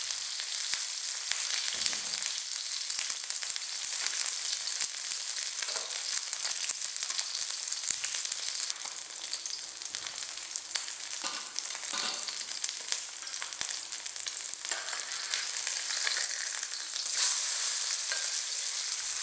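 Patted-dry fish fries in hot oil until golden brown, a continuous crackling sizzle with scattered pops and spatters, fairly quiet and steady, swelling slightly toward the end.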